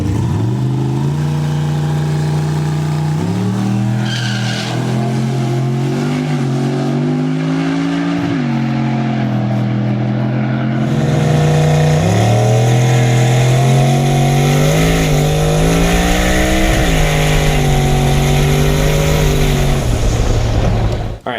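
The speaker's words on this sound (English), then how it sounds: "less than desirable burnout" A turbocharged car at a test track does a poor burnout, its engine held at high, wavering revs for a long, loud, close stretch that climbs higher about halfway through.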